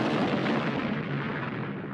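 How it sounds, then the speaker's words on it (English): An enormous cannon exploding, heard as a loud, dense, sustained roaring blast that fills the whole clip without a clear break or any voices. "It exploded."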